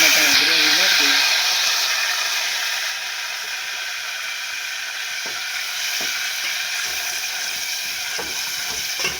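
Onion-tomato gravy hits hot oil and sizzles loudly, a steady hiss that eases slightly after the first few seconds, with faint clinks of stirring toward the end.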